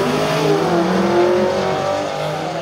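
An LS2-powered yellow Holden VK sedan accelerates hard in a night drag race, its loud V8 engine note rising and sustained close by, with no talk over it.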